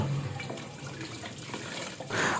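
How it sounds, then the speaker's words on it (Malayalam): Banana leaves are washed one at a time under running water, a soft steady splash and trickle with small handling sounds and a brief louder gush at the end. "ഇനി ഓരോ ഇലകളായിട്ട് നമുക്ക് ഇതുപോലെ ഒന്ന് കഴുകിയെടുത്ത് അതിനെ മാറ്റി വെക്കാം"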